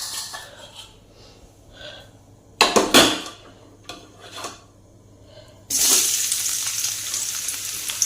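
Oil sizzling loudly in a pan while GSB-style okra curry is cooked, with clinks of utensils early on, then a sudden strong, steady frying hiss close by that fills the rest of the clip.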